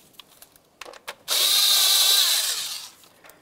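A power tool spins up to loosen an 8mm clamp on the EGR valve of a 1998-2002 Lincoln Navigator, one loud whirring burst of about a second and a half after a few faint clicks.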